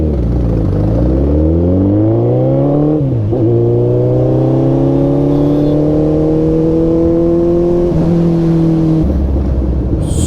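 A loud vehicle engine revs up in traffic. Its pitch climbs and then holds a strong, steady roar close by, with a brief dip partway through and a rough idle at the end.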